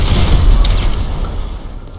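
A deep, rumbling explosion in the video game GTA V, loud and close at first, then a boom that slowly fades with no voices over it.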